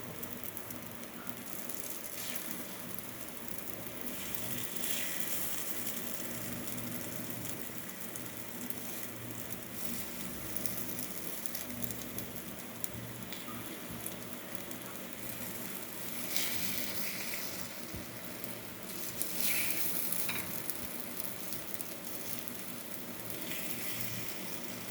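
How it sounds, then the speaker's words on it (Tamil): Egg and onion frying in oil in a paniyaram pan for spicy kara muttai paniyaram, giving a steady, soft sizzle and light crackle that holds throughout, with no talking. "அந்த முட்டை வெங்காயம் எல்லாம் எண்ணெய் கூட சேர்ந்து வேகும்போது ரொம்பவே சூப்பராக வாசடிக்குது"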